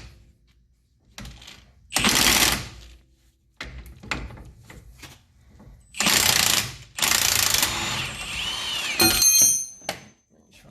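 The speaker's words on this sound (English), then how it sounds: "Got our ratchet on the nut end." Ratchet working on the lower shock bolt of a Jeep YJ, giving bursts of clicking and metallic rattling that alternate with quieter gaps, close and fairly loud, with a brief whine near the end.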